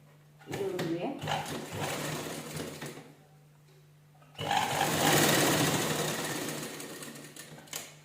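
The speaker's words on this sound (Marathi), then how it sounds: "डबल एकदा शिलाई देऊन घ्यायची म्हणजे व्यवस्थित लॉक करून घ्यायची शिलाई" An electric sewing machine stitches the shoulder seam of a blouse in two loud runs of rapid, rattling whir, with a pause between them and someone speaking over the stitching.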